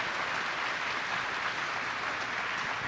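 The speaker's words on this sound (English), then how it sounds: "Can you give them a round of applause, please?" An audience claps for five astronauts at a solar eclipse viewing event, a brief, even round of applause heard at moderate distance.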